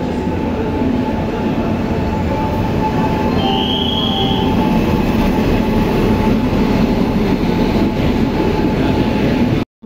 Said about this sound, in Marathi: आमची ट्रेन पण आली.